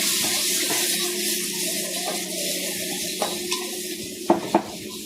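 Fried tempeh and petai being stirred into sambal in a pan, a steady low sizzle with soft scraping and a few sharp utensil knocks against the pan near the end.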